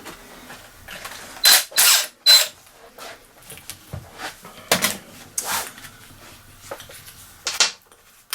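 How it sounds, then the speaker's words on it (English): Socket ratchet loosening a float bowl bolt on a carburettor in a workshop: a few short, sharp bursts of clicking pawl action with metallic handling clatter in between, close and fairly loud, no talk. "I'll just get a socket to take it off to show you."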